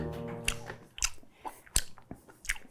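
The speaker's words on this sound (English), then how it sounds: "God, I can't stop chewing these." Close, wet chewing and biting on Krispy Kreme original glazed donuts, with several distinct crunchy bites spaced through a quiet mouth-sound background.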